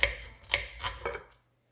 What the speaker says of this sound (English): Let me cut into a little piece.